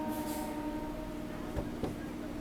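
A Barddhaman to Katwa local train pulls away from Chamardighi railway station with a steady rumble and low hum, broken by two brief knocks of the wheels, heard from on board.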